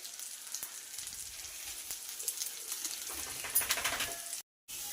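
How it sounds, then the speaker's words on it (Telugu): Soft, crackling sizzle of freshly ground masala paste frying in oil for chicken pachadi, with scattered pops and a faint stirring scrape, fairly quiet and close. "ఆ మసాలా అయితే వేసి వేపుతున్నాము"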